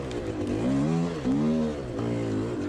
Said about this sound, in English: now we can hear the engine is. It's like it's hunting as the revs